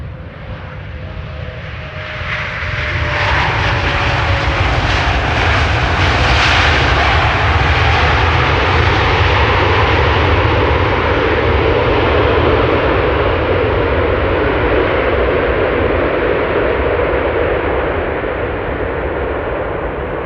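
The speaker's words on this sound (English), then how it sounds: "Delta Airlines Flight 142, arriving from Seattle, Washington." Delta Airlines flight from Seattle, Washington, landing on Polderbaan runway 18R at Amsterdam Schiphol Airport: a loud, sustained jet engine roar swells within the first few seconds and holds steady to the end, with no voices.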